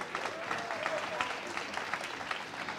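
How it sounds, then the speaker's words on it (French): Audience at a youth talent trophy ceremony clapping steadily, a fairly soft, even patter of many hands that continues throughout. "on peut applaudir très très fort Margot"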